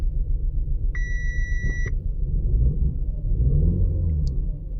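A 2012 Audi A4 2.0T engine with a misfire and compression trouble in cylinders 1 and 4, a low uneven rumbling idle that swells as it revs, with a short electronic beep early on.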